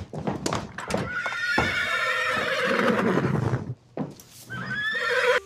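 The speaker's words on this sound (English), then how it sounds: "they did like this horse walking into a bar and then the person gives them hay" Horse in an AI-generated Google Veo 3 scene, walking into a bar, gives loud, close whinnies and neighs with hoof clip-clops, a brief pause, then another neigh toward the end.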